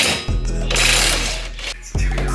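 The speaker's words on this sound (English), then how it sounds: "you gotta use a 19mm to take off the bolts that attach the knuckle to the coil over" A 19mm wrench working the knuckle-to-coilover bolts on a drift-built FRS, giving bursts of close metallic ratcheting clicks between short pauses.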